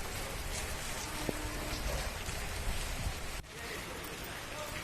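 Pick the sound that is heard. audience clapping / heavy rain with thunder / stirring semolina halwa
heavy rain with thunder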